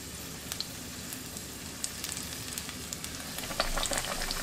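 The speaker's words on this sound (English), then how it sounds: "I'm going to start out by putting one of the cutlets in." A pork cutlet frying in hot oil gives a quiet, steady sizzle with scattered crackles and pops that grow a little denser toward the end.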